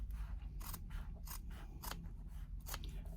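Scissors trimming fabric for a bag lining, four crisp close snips spaced evenly apart over a low steady background hum.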